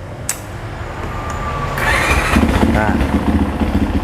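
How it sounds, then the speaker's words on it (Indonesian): A Symotos 190 motorcycle with a Zhongsheng engine starts and runs to warm up from cold, a rising steady engine rumble close by, with someone talking over it. "jadi Zhongsheng ini, mesin ini kalau masih dingin ini kita panasin dulu seperti ini"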